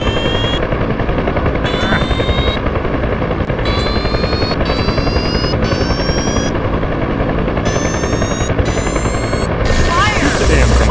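A military helicopter in a combat search-and-rescue video game hovers on its skid during a slope landing, with a loud constant rotor and engine roar. Intermittent high whining tones cut in and out over it.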